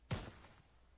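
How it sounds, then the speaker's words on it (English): A single sharp gunshot fires in the ERLC video game, a short crack followed by a quick fading tail. "you can see that it has that gunshot thing when you shoot"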